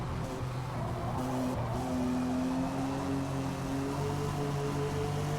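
Touring race cars in the Forza racing video game, engines droning and shifting pitch in a steady continuous roar, several cars close together, with no talk over the engine noise.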